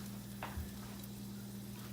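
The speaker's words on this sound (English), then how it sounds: "that oil's smoking, it's ready to go. So it's starting to sizzle." Soft, brief sizzle of potatoes in hot oil, with a low steady hum and a quick stirring scrape.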